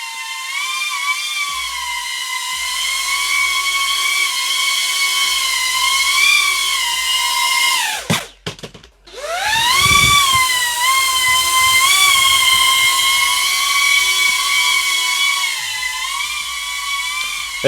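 Aquila 20 HD Beta FPV drone flying indoors, its small motors giving a steady high-pitched whine that rises and falls with throttle, briefly cutting out and dipping near the middle before spinning back up.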